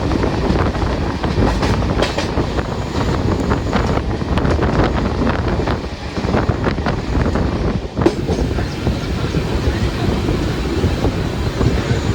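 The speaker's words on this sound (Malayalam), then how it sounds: "മാവേലിക്കര സ്റ്റേഷൻ എത്തിയിട്ട് ഡിപ്പാർട്ടായി." Venad Express departing Mavelikkara station, heard from inside a second-sitting coach: a steady rolling rumble with rail clatter and wind rush fills the whole stretch, loud and close.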